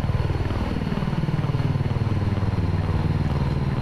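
Steady droning engine and rotor hum of a VTOL aircraft in the X-Plane 11 flight simulator, loud and continuous with a rapid pulsing beat, no talk over it.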